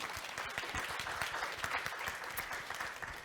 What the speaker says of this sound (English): Please give Kerry a round of applause.